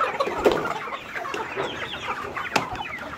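Tiger chickens cluck steadily while eating fermented corn feed, several birds close by with overlapping soft clucks and a few sharper calls, no voices.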